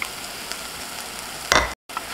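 Onions sizzle and fry in a pot while browning for French onion soup over medium-high heat, a continuous close crackle with one brief louder stir-like burst and a short gap.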